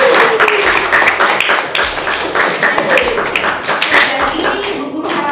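Children in a classroom clap their hands in several short bursts, loud and close, with the noisy room and some voices around them.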